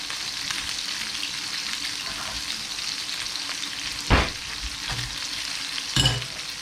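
Sauce for a breast dish reduces in a pan with a constant close sizzle and bubbling, broken by two sharp knocks of a utensil against the pan.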